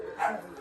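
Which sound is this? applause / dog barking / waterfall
dog barking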